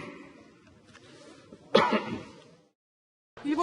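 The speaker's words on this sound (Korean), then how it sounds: "국회 답변을 위해 단상에 서자마자 기침을 합니다" The Japanese Prime Minister coughs and clears his throat at a parliamentary podium in a sharp, harsh burst. Quieter throat sounds come before it, then silence, and another cough begins at the end.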